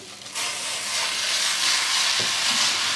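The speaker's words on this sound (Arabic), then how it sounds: "دلوقتي بقى جاهز ان انا انزل بباقي كميه الرز" Washed and drained rice tipped into a pot of hot fat, giving a sudden loud, steady sizzling hiss that starts abruptly and holds for several seconds, with a brief clatter partway through.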